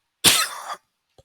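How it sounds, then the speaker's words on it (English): A single close, sharp cough bursts out and fades within half a second, followed by a short faint throat sound after a brief silence. "Sorry about the cough again"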